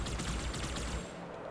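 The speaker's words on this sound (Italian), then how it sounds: "È da mezz'ora che le sparo" A dense, loud stream of gunfire in Halo 2 Anniversary fills the moment, then drops off abruptly near the end.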